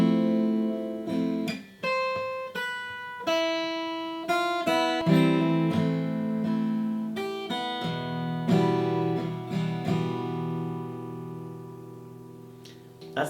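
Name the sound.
guitar playing a song intro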